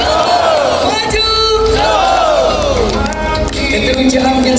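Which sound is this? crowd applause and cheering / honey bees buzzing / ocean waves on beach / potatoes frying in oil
crowd applause and cheering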